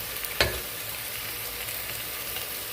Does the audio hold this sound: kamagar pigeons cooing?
no